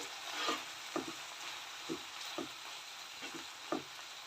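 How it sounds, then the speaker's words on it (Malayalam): Chicken kondattam fries steadily in a pan, a continuous soft sizzle broken every half second or so by short stirring scrapes, close and moderately quiet with no voices. "ചെറുതായി ഒന്ന് ഫ്രൈ ചെയ്താൽ മതി."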